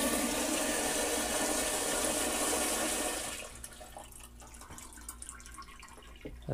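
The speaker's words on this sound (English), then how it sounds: "This is a Headhunter marine head. There are no moving parts in this toilet." A Headhunter marine toilet flushes aboard a 1995 Lakeview houseboat with a loud, close rush of water for about three seconds, then drops to a quiet trickle and faint clicks, with no talking.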